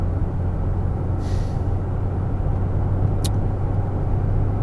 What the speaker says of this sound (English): here I am on the motorway in fifth gear at 100 kilometers an hour. My boot is down to the boards